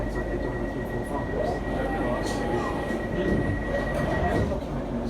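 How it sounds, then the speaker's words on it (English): A London Overground train to Gospel Oak rolls along with a constant low rumble and a steady high electric whine, heard from inside the carriage, with faint talk under the noise. "This is the train to Gospel Oak."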